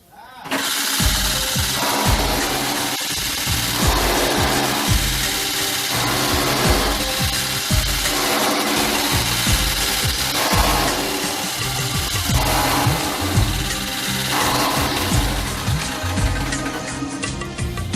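A straw and grass chaff cutter with Chinese blade parts runs loud and steady, its rhythmic chopping thumps repeating about every two seconds over a constant mechanical drone.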